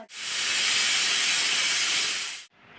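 Tempering spices hitting hot oil for a village-style Gujarati mung and chana dal, a loud, steady sizzling hiss lasting about two and a half seconds before cutting off abruptly.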